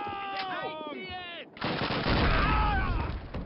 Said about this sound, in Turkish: Kendi bombasıyla uçtu.